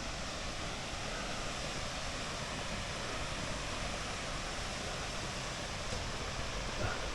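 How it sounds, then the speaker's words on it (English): Steinsdal waterfall in Norway gives a steady, broadband rushing roar, faint and distant, constant from start to finish with no other sounds standing out. "Now that's a stunning waterfall."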